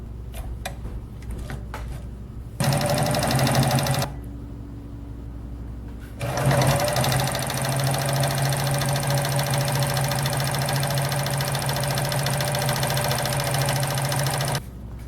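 A Morse Fotomatic III sewing machine stitches zigzag at 15 stitches per inch through six layers of 12-ounce denim, in two loud, rapid rhythmic bursts, a short one and then a longer steady run, close by with no talking.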